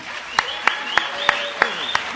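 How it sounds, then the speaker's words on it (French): Sparse, evenly spaced claps from a small gathering of a Nîmes listeners' group, about six sharp hits at a steady beat, with a voice or tone carrying faintly underneath. "On peut applaudir Christine de Nîmes"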